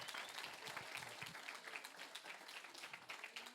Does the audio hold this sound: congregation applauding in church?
yes